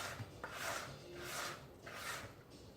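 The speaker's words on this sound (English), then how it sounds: "use your spatula, scrape down your sides" A spatula scrapes around the sides of a bowl of peanut butter oatmeal cookie dough, making soft, close, rhythmic rubbing strokes, about four passes, fairly quiet with no talk.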